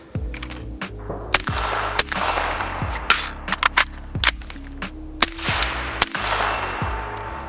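Gunshots fired during a reload training drill using an INVRT Bandoleer IC13 magazine carrier. Several sharp, loud reports come at irregular intervals, mixed with metallic clanks and lingering ringing tones.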